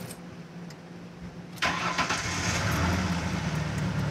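A car engine cranks and catches with a sudden rough start, then settles into a loud, uneven idle that continues to the end.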